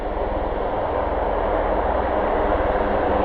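A steady broad engine roar from an Osprey tiltrotor aircraft taxiing at RAF Mildenhall, constant and fairly loud without change across the few seconds.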